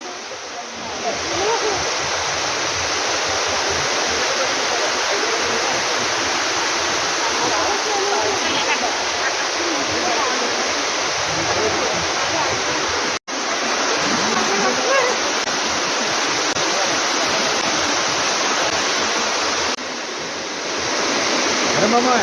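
Amruthadhara waterfall roars as a dense, steady rush of falling water, loud and continuous, with a brief dropout midway.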